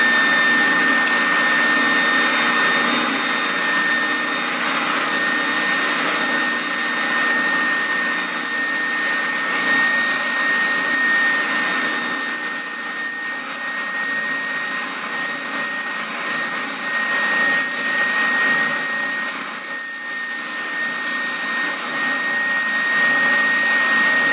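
A Triton oscillating spindle sander fitted with an 80-grit spindle runs idle with a loud, steady motor whine and airy hum, constant throughout with no talk.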